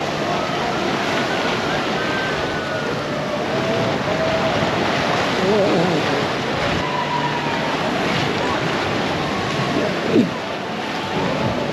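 Water churning and swirling around a small boat on the Aquatopia water ride at Tokyo DisneySea, a steady broad wash of moving water and wind noise throughout, with faint voices in the background.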